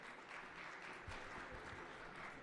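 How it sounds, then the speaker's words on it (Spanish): An audience applauds a speaker at a public forum on social policy in Mexico City, a faint, distant, even patter of many hands clapping in a large room, with no talk over it. "Un caluroso aplauso al doctor."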